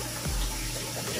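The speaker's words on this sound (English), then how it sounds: "We've got this big pot that we have to fill up with water." Tap water runs steadily into a big pot being filled for steaming crab legs, a continuous close rushing hiss with a low drumming underneath.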